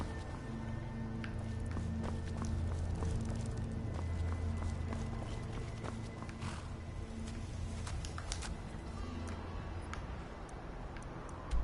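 Hooves of a horse in Skyrim clopping steadily at a walk through the streets of Whiterun, a continuous mid-level rhythm over low ambient game music.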